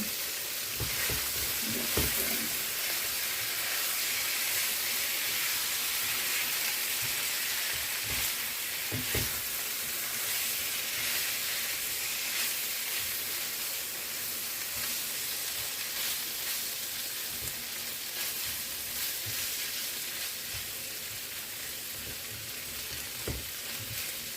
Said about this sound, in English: allow it to fry and get a little bit of color before I flip them over